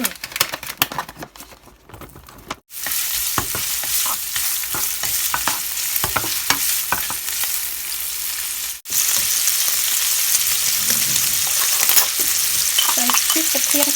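Vegetable fern and bacon stir-fry loudly in a hot pan, a dense steady sizzle with scraping stirs and clacks of the spatula, briefly cut at two points as the food is tossed, with no talking.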